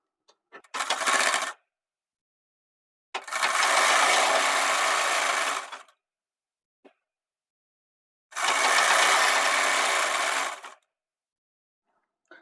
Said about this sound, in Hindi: लपकी सिलाई से इसको पक्का कर लेते हैं।